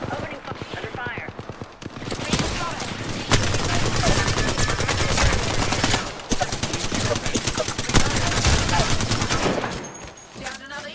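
Rapid automatic gunfire from the video game Apex Legends, with dense bursts and sustained volleys that are loud and close, punctuated by short pauses, while a voice talks over part of the action.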